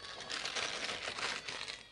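Plastic bag holding gladiolus bulbs crinkles and rustles close by in a steady stream of soft, papery crackles with no voices.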